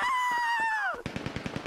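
Gunfire in the video game GTA 5 roleplay: a rapid burst of repeated shots follows a falling electronic tone, the shots evenly spaced and fairly loud near the end.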